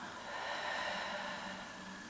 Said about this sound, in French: Longue expire.